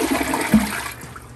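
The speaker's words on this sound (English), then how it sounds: "Let's go ahead and do a full flush one more time." A full flush of a Gerber toilet with an elongated bowl: a loud, close rush of water that surges briefly, then drains away and fades toward quiet.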